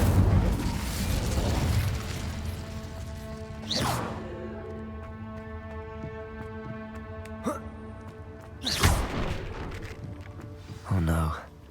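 An Incendio fire spell cast in Hogwarts Legacy, with sharp whooshing bursts at intervals over a sustained tonal game music bed, the strongest blasts near the middle and end.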